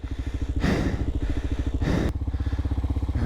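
Kawasaki KLR650 motorcycle on an outback trip: a close, rhythmic engine putter with regular thumping pulses, interrupted twice by brief rushes of broadband noise, and no speech.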